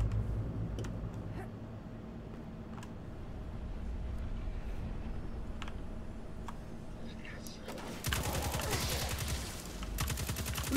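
Gunfire in Destiny 2, scattered sharp shots and bursts popping over a low game drone, growing into a louder rapid volley near the end.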